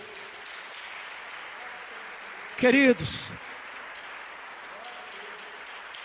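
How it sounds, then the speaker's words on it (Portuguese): A church congregation keeps up a sustained, even round of applause, broken near the middle by a brief loud spoken word over the clapping. "Aplaude o Espírito Santo."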